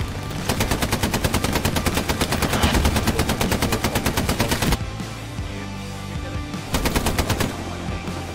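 Machine gun suppressing fire in Hell Let Loose, long rapid bursts of evenly spaced shots, loud and close, a brief pause, then another sustained burst.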